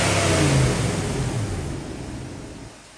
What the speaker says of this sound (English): Rev it up one more time.